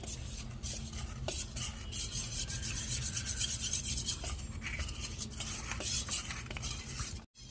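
Bombay Karachi halwa batter is whisked with water in a bowl, a dense continuous rubbing and scraping of a spoon against the bowl, close and vigorous, ending in a brief silence with no talking.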